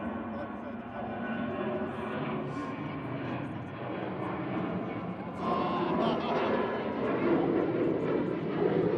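Airplane at Manchester Airport, a steady broad engine roar that swells slightly louder partway through, heard from a spotting position with people talking nearby.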